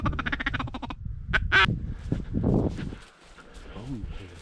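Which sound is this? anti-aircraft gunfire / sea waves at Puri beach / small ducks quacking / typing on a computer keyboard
small ducks quacking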